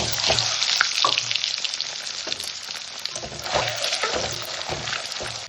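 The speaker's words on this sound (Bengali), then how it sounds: "তেল গরম হয়ে গেছে, এই ডিমটা দিয়ে দিচ্ছি" Loud, steady sizzling of an egg frying in hot oil, with a few crackles and pops and scraping of a utensil.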